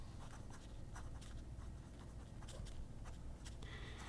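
Fine steel nib on a Momento Zero Grande 2.0 ebonite fountain pen scratching across paper, close and faint, with short repeated strokes and a steady soft texture, no talk.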